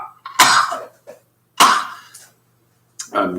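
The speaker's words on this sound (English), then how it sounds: "I'm coughing because of the result of" A man coughs after smoking a cigarette, three harsh separate bursts with quiet gaps between them, close and clear, with no other voices.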